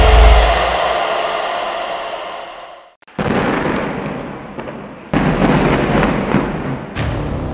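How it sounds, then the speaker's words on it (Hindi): Loud booming blasts over the Gaza and Israel conflict zone, with a heavy rumbling burst at the start, a brief lull, then renewed dense crackling explosions around three and five seconds continuing to the end. "गाजा से लेकर इजराइल का आसमान बम की आवाज से कांप रहा है"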